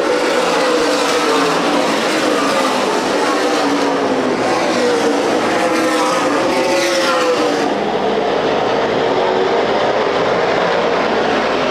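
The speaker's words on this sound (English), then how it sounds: "Kenseth fell back on the start, but he has since closed again to the rear bumper of Scott Hance" Race cars lapping Winchester Speedway in a CRA Super Series 100-lap event, a continuous loud roar of engines with passing sweeps that rise and fall, then thin out slightly toward the end.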